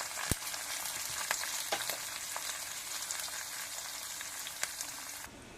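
Curry leaves and dry ginger powder sizzle in hot oil for a tempering for Kanchipuram idli, a steady crackling fry with a few sharp pops, close and fairly quiet before cutting off abruptly.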